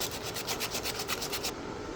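Someone sands the edges of a wooden guitar headstock by hand, making a quick run of rhythmic rasping strokes, close and fairly quiet, that stop after about a second and a half.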